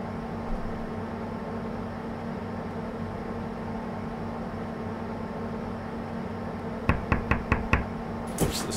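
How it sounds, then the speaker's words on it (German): Knocking on a train door in the Train Simulator Classic game, a run of about five sharp raps close together near the end, followed by one more knock, over a steady hum of train noise. "Ups, es klopft."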